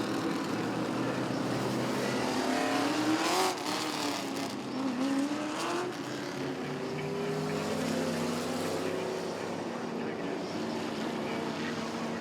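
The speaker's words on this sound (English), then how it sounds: "Gentlemen, start your engines." Many modified race car engines roar together at Langley Speedway in a loud, steady drone, pitches rising and falling as cars rev and pass, continuous throughout.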